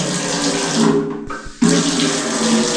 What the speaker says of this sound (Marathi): इथे आपला 24 आवर्स पाणी आहे. पाणी स्पीड बघा